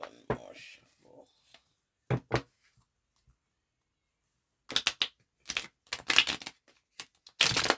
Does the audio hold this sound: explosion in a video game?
no